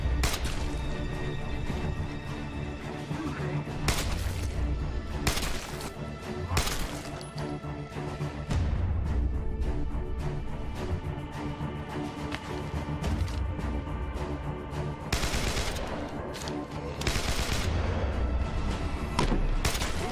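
Continuous loud gunfire and crashing impacts from the zombie survival video game State of Decay during a siege, dense bursts and booms throughout with no clear pauses.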